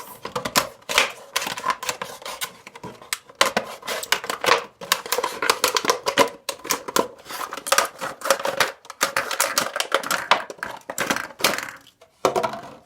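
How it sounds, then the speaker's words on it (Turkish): Rapid crackling and crunching of a plastic cola bottle being cut, coming in irregular bursts with brief pauses, close and fairly loud. "Tam buradan kola şişimizi kesiyoruz"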